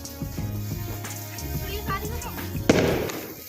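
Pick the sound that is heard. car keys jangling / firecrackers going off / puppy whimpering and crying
firecrackers going off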